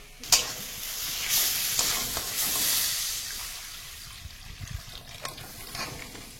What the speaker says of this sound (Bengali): মশলাটা একদম রেডি হয়ে গেছে, এবারে জল দেবো।